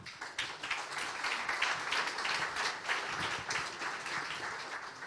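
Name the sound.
applause for a conference speaker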